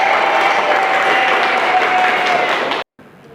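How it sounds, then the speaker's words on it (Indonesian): Loud, dense applause fills a microteaching session in a classroom, steady for almost three seconds before cutting off abruptly, followed by faint room noise. "Tepuk tangan."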